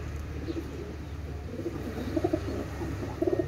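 Pakistani pigeons give a few soft, short coos in small clusters, quiet against a low steady hum with no talking.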